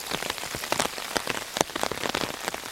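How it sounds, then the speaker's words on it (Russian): Heavy July rain drums on an umbrella close overhead in a dense, irregular patter of sharp taps, with steady hiss behind the individual drops and no talking. "Слышите, как стучат капли по зонту?"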